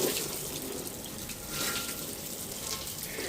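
Water runs under strong pressure from a tap during household washing, a steady, fairly faint hiss and splash with slight surges, no voices over it.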